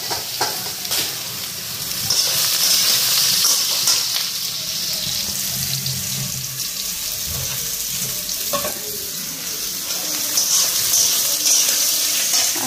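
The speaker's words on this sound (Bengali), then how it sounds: "তারপরে বাকি থাকবো পটল ভাজা।" Pointed gourd (potol) fries in oil in a pan with a continuous, moderate sizzle and crackle. Faint scraping and stirring run through it, and no one speaks.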